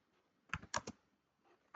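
Short bursts of keystrokes on a computer keyboard, a quick cluster of three or four clicks followed by a lone tap, close and fairly faint against a quiet room.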